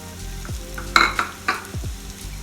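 Onions hitting hot oil in a pan already holding cumin and ginger-garlic paste sizzle and fry, with a steady close crackle broken by a few louder spits and stirring scrapes.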